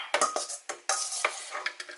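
Cooled jerk mushroom is poured from a dish into a food processor, giving a quick run of close scraping, clattering knocks of food and utensil against the bowl with no talk.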